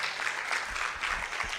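Continuous applause from an audience at a formal signing ceremony, a steady dense patter of many hands clapping that fills the whole stretch without pause.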